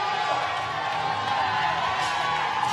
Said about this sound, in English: Listen to this crowd bringing these 2 guys home.